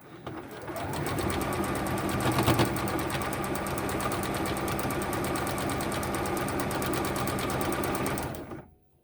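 A sewing machine stitches a fabric mask in a fast, even run of needle strokes, close and loud, holding steady for several seconds before stopping abruptly at the end.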